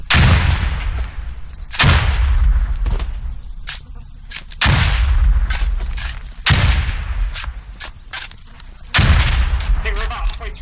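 Frag grenade blasts and gunfire in a close-quarters video game battle at Al Basrah, five heavy booming explosions at roughly two-second intervals with scattered sharp shots between them, loud and near, with voices talking under the noise.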